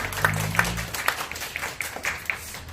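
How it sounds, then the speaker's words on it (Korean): A church congregation claps in praise, scattered sharp claps over a soft crowd wash, moderately loud with uneven rhythm, a low sustained tone fading early on. "우리 주님께 영광의 박수 올려드립시다."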